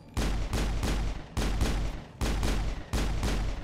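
Bursts of automatic gunfire in the Mass Effect video game, five loud rapid volleys in quick succession separated by short gaps.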